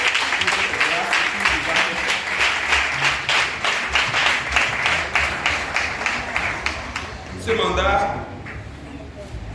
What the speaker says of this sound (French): Je nous demande d'applaudir très fort le Seigneur.